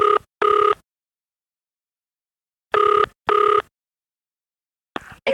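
An office telephone rings in two double-burst cycles, each a pair of short electronic trills with clean gaps of silence between, loud and close, before being picked up.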